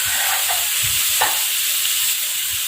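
Pounded pork and spice paste stir-frying in a pan, a loud constant hiss of sizzling with soft scraping knocks of the utensil at intervals, close up and without talk.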